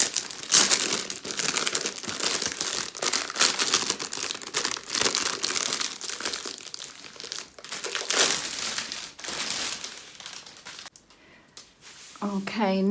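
The cellophane wrapper of a diamond painting kit crinkles and crackles loudly up close, in dense, continuous handling, then drops away briefly near the end before a voice comes in.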